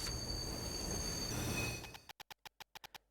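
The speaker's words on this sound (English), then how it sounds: "Train noise?" A train rumbles steadily in the Little Witch in the Woods game, then the sound cuts into a rapid series of short, sharp clicks or clacks evenly spaced, like wheels over rail joints slowing down.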